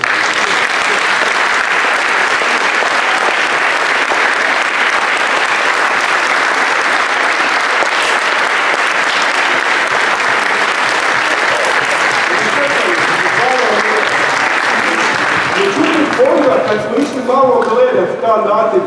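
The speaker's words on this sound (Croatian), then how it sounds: "a vi ih nagradite jednim toplim pljeskom" Primary-school pupils from first to seventh grade clap warmly at a school day celebration, a dense, loud round of applause held steady before it thins into scattered claps and murmuring voices at the end.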